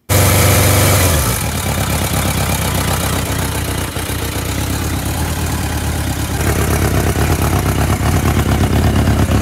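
A superbike engine idles steadily with a low, rumbling throb, loud and close, after a brief louder burst at the start.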